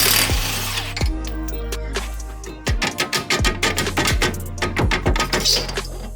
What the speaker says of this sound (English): we can go ahead and take a 32mm impact to the axle nut